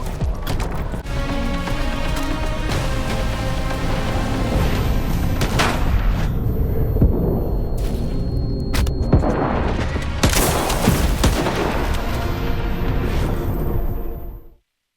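Dense, sustained gunfire and heavy booming explosions from a combat firefight in the video game STALKER 2: Heart of Chornobyl, loud and continuous with overlapping shots and blasts, cutting off abruptly at the end.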